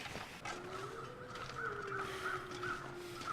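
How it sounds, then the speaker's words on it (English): Crows caw in The Long Dark video game, a few distant, faint caws in a quick series over a steady windy outdoor ambience. "I can hear more crows."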